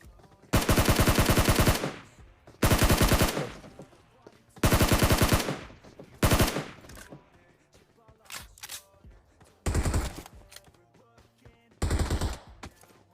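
Video game gunfire, several long full-auto bursts from close up, each lasting about a second, then shorter scattered shots and quieter pops in between.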